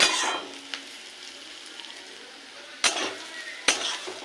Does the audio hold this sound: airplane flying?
no